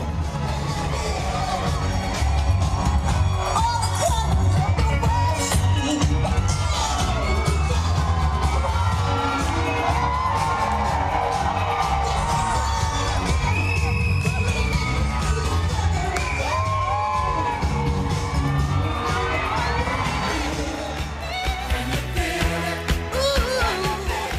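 A huge festival crowd of some 300,000 spectators roars and cheers continuously for a troupe of Australian lifesavers, with whoops, shouts and children's yells layered over a dense, sustained wall of noise.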